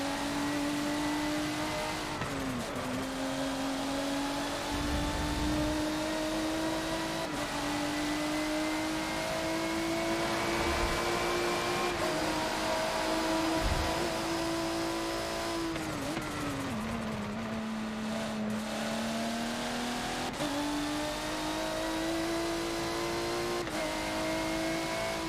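A McLaren P1 engine drones continuously while racing in Forza, rising and falling in pitch through acceleration, gear changes and heavy braking. It is loud and close, with no talking over it.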